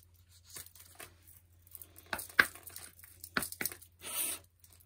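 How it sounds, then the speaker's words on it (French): A tarot-style card is drawn from a deck, with soft, close papery rustles, slides and a few crisp snaps spread across a few seconds in an otherwise quiet room. "Et on va tirer une carte pour avoir un conseil."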